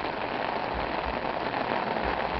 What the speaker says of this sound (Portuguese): E essa chuva maravilhosa que cai agora, nessa noite.